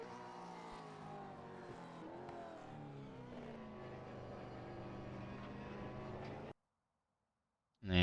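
Race car engine from a Supercars car at Donington Park in iRacing, a loud sustained roar with shifting pitch as it revs through gears for about six seconds, then cutting off abruptly to silence before a brief burst at the end.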